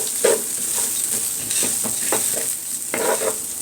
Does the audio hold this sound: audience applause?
no